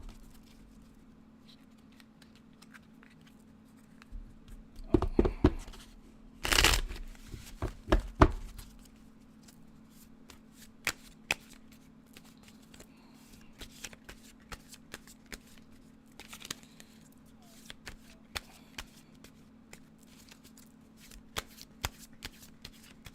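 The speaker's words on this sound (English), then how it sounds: "One more decent shuffle." Tarot cards are shuffled by hand close up, a dense riffling burst near the start followed by scattered soft snaps and taps of cards over a steady low hum.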